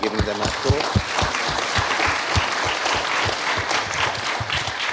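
An audience at a ministerial panel session on population in Asia and the Pacific claps for the panelists, steady and dense clapping held for several seconds in a hall.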